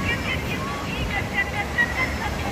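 Sea waves rolling onto a beach at low tide, a continuous broad wash of surf with wind buffeting the microphone; faint distant voices murmur underneath.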